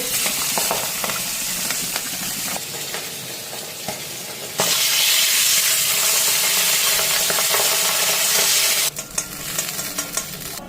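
Fish rubbed with turmeric and salt fries in hot oil, a loud continuous sizzle with intermittent scrapes and clinks of stirring, surging louder midway before easing off, with no talk.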